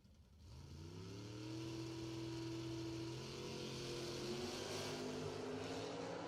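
A Camaro and a Nova launching in a drag race at a spring drag strip event, engines swelling into a sustained loud roar with rising, shifting tones, heard from a moderate distance without voices.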